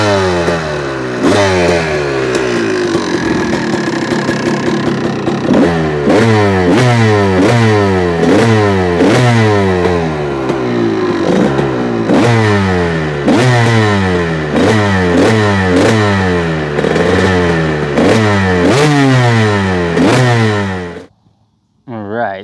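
A Honda CR250 two-stroke motorcycle engine idles and is blipped repeatedly, each throttle rise and fall sweeping in a sawtooth pattern, loud and close, running for about twenty seconds before cutting off near the end.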